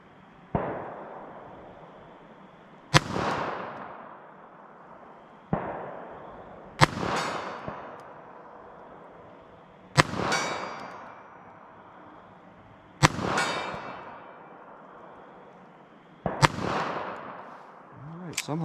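A Winchester White Box .380 ACP pistol fires at a target 50 yards away outdoors: six loud, sharp reports spaced about three seconds apart, each trailing off in a ringing decay.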